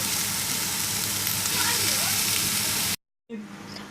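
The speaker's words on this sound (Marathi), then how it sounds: "आतां ही सुंगटां फ्राय जालें" Prawns fry in hot oil with a dense, even sizzle for about three seconds. The sound cuts to a brief silence, then returns as a fainter crackle.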